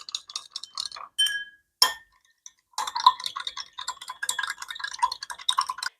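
A metal spoon clinks rapidly against a cup while stirring yellow food coloring powder into liquid for biryani rice, bright repeated taps in quick bursts with a short pause, close and clear with no talking.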